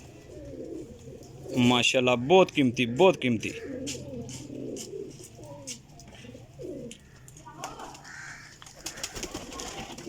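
Teddy pigeons kept by a fancier coo in several throaty, rolling calls close by, with someone talking over and after them and light rustling and chirps in the background.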